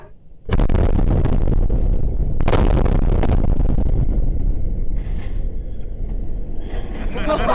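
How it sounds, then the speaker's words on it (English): A propane popper explosion on a film set goes off with a sudden loud boom, followed by a second blast as the rest of a building is blown up, then a long rolling rumble and debris noise. "the center is going to go on the propane popper, and then on 2, the rest of the building is going to be boom"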